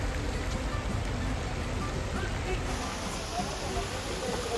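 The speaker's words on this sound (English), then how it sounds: "It's raining." Steady broadband hiss of rain falling in Greece, constant and fairly loud, with a faint high tone in the background.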